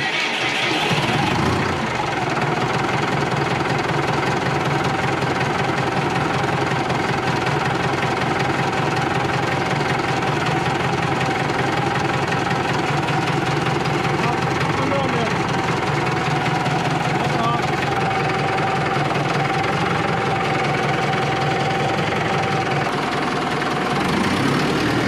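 A Valtra N101 tractor engine starts and settles into a loud, steady idle with a heavy low rumble and knocking vibration, running unbroken for about twenty-five seconds.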